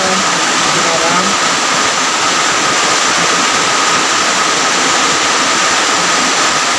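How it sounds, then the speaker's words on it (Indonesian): Heavy rain pours down loud and close in a dense, unbroken hiss that holds steady the whole time, with no voices. "Dan hujannya ini makin deras"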